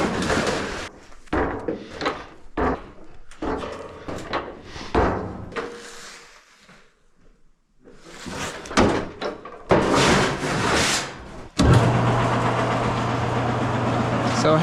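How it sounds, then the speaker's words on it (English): A lock former machine forms the edges of sheet-metal duct sections, starting with a steady loud mechanical rolling drone near the end that follows scattered clanks and knocks of metal being handled. "we'll run these through the lock former"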